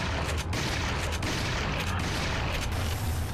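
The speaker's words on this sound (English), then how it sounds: "See how he likes my shotgun." Shotgun blasts in Resident Evil 4 VR, a video game, merge into a dense, loud barrage of booming fire against a cave troll, with sharp shots piling up without pause.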